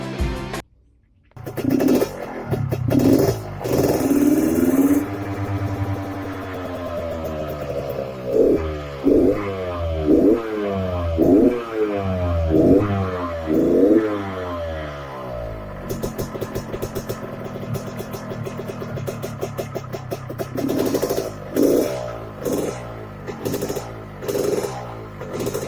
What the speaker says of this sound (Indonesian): kita cek untuk suara mesin